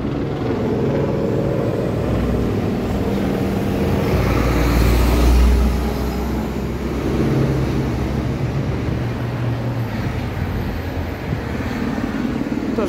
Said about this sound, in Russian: А, вот автобус.